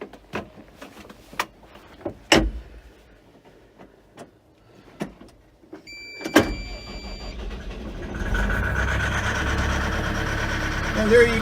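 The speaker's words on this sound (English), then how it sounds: "there you can hear the engine starting up from a cold start" A Cat 313FL excavator's engine cranks and fires up from a cold start, settling into a steady loud idle after a few clicks and thumps inside the cab.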